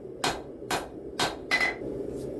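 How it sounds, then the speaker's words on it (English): A hammer strikes the end of a hot steel bar on an anvil, drawing out the tip of a sgian dubh knife at the forge; four sharp, ringing blows land at an even pace, close and loud, with no talk. "I'm going to start by hammering on the end of the steel"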